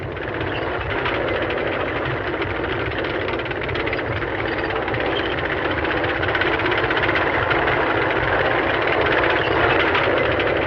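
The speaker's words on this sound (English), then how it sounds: "Pershing tanks. Rumbling up to spearhead the action to come." A steady, heavy mechanical rumble of Pershing tank engines rolls on continuously, dense low droning with a grinding vibration and no pauses, loud and close throughout.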